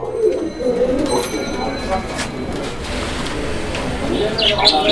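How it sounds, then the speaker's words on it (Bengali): Fancy pigeons cooing in low, soft murmurs at a pigeon market, several coos overlapping, while people talk nearby. "এখানে আরো একজোড়া কবুতরের কালেকশন আছে"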